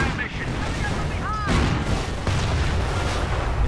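Artillery fire mission in the World War II strategy game Company of Heroes, heard as a dense, continuous wash of distant booms and rumbling blasts, with a faint incoming whistle midway and a voice talking over part of it.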